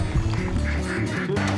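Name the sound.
duck quacking at a lake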